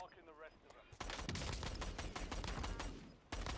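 TR2 rifle fired in a video game: a rapid, loud burst of gunshots rattling for about two seconds, a brief pause, then another burst starting, with a voice talking just before the shooting.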